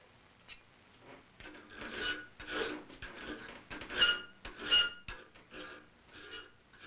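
A sharp chisel paring hard maple end grain: a run of close, rasping scrapes and short squeaky cuts in an uneven rhythm, moderately loud and up close with no voices.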